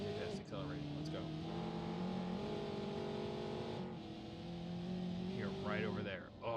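A car engine drones and revs in the BeamNG driving game, holding steady tones that climb and shift as it accelerates, continuous and fairly close with no pauses.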